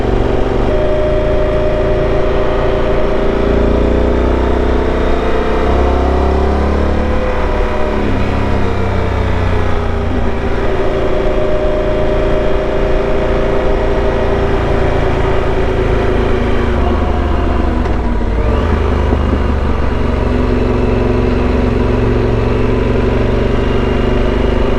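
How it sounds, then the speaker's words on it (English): A racing lawn mower engine at a lawn mower racing event in Morton, Washington runs loud and steady at close range, its pitch rising and falling with revs for the whole stretch, with no talk over it. "Give a couple beeps and a couple revs."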